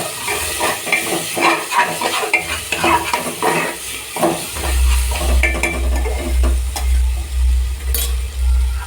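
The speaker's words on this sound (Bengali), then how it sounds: "এবারে মটনটা দিয়ে দেবো যেটা কুচি কুচি করে রেখেছিলাম" Minced mutton fries in a pan with spices as it is stirred, steady sizzle joined by repeated scraping and clinking strokes of a spoon, close and fairly loud, with a low rumble rising in the second half.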